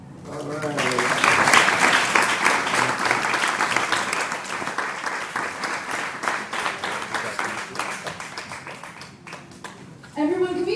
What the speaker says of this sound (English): can we just give another round of applause for all the champion award recipients